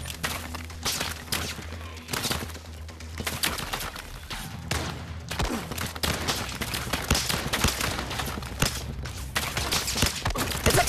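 Dense, chaotic gunfire from a Zero Caliber VR shootout, with rapid bursts and single shots crackling almost nonstop, close and loud, with scattered footsteps mixed in and no one talking.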